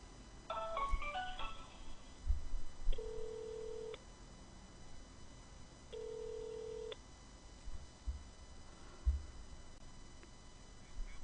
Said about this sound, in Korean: 지금 묘령의 남자분께 제가 전화 중입니다